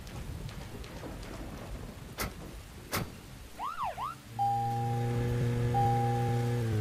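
A steady electronic police car siren tone in the video game Deadly Premonition starts partway through and holds with a low hum, after a pair of sharp bangs and a brief warbling whoop.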